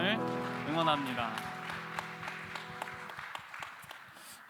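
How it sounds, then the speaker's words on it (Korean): A church congregation at a Sunday youth worship service applauds together, with sung music and a voice fading out as a run of sharp, scattered claps takes over toward the end. "우리 박수로 서로의 삶을 응원합니다."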